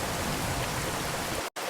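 Steady, dense rain on a stormy night hisses evenly and continuously, cutting off abruptly for a split second near the end.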